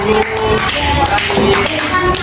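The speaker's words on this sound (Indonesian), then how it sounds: "Tepuk tangan, tepuk tangan." A classroom of schoolchildren claps together on cue in a short burst of quick, rhythmic hand claps, with voices mixed in.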